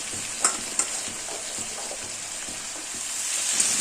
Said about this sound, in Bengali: এবার এই পুঁই শাকের ডাঁটা সবজির সঙ্গে খুব ভালোভাবে মিশিয়ে দিচ্ছি